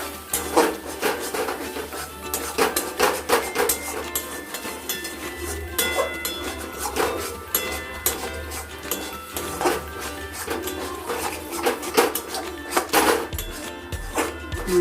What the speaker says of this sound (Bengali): এটাকে ভালো মতো করে নেড়ে দিব